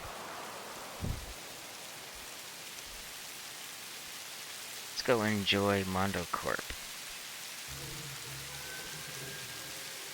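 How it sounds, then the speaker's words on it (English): Steady rain hisses continuously in the Satisfactory video game as a soft, even wash of noise, while someone talks briefly over it midway through. "Hey, my rain's here."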